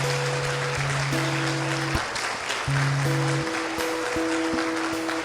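An audience applauding at a religious talk, steady clapping throughout with sustained organ or keyboard tones playing over it.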